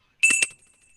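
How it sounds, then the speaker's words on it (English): A small bell struck once during an online design conference, giving a bright, ringing clang that fades over about half a second in otherwise quiet surroundings. "Mispa, ring the bell."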